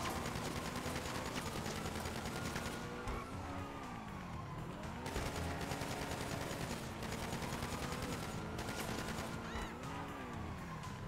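In the video game GTA, police helicopters and gunfire make a constant dense roar during a police chase, with rattling bursts and rising and falling siren-like wails. The layered noise stays steady and fairly faint throughout.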